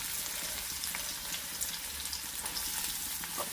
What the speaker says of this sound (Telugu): చూసారా హీట్ ఎక్కువ నువ్వుల నూనె వాడుతున్నావు కదా అందుకోసం నొరగొస్తుంది